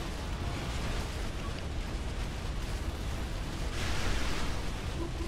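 Artillery shelling in the real-time strategy game Supreme Commander 2 makes a steady rumbling roar of distant explosions, fairly faint and continuous, swelling slightly toward the end.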